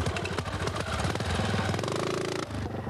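A Royal Enfield 350 Bullet single-cylinder motorcycle engine thumps loudly and close, a steady rapid pulsing beat that shifts briefly near the end.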